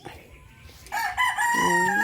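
A rooster crows loudly and close by, one long rising call after a brief quieter lead-in.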